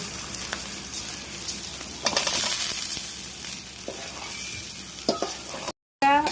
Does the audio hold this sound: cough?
no